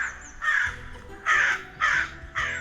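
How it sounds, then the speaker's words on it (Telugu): Four loud, harsh caws come in an uneven rhythm, each one distinct and close, in a tale where a rooster starts calling like a crow. "అప్పుడు కోడి ఒక్కసారిగా కావు కావు అని అనడం మొదలుపెట్టింది."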